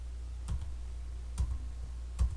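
Three separate key presses on a computer keyboard, spaced about a second apart as keys are held and arrowed through, each a short sharp click over a steady low hum.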